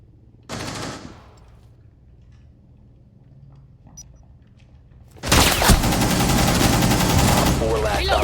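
Suppressed AR fire from Aruni in Rainbow Six Siege comes in two bursts: a short rattling volley, a pause with faint game ambience, then a longer sustained automatic stream.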